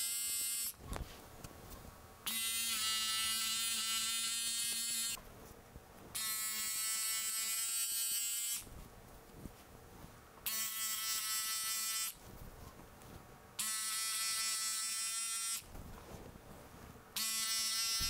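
Electric hair clippers buzz through a man's medium-length hair during a DIY fade haircut. The steady, close, high-pitched whine cuts in and out in repeated bursts a few seconds long, with quieter pauses between them and no speech.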